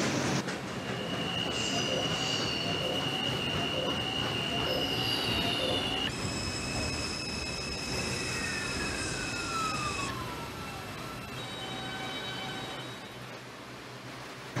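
An R142 subway train in a video game rumbles along the tracks with high squealing wheel tones and shifting whines as it runs, loud and continuous throughout.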